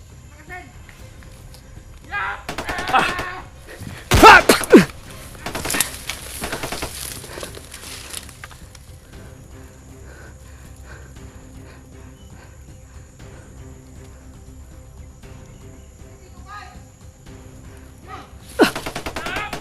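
Gunfire trades back and forth in a shooting video game, loud bursts of automatic fire clustered near the start with one more burst at the end. Someone talks throughout over a low background rumble.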